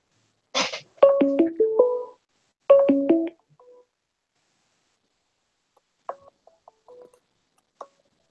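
Computer and phone dialing tones heard while someone joins a call: two short runs of stepped beeps, then a few faint scattered blips, alone against silence.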